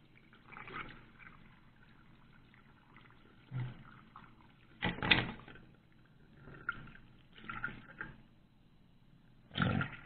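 Water flowing through a leaking rear heater valve on a 1984 VW Vanagon: irregular gurgling, trickling surges that come in short bursts separated by quieter stretches, close by and fairly faint.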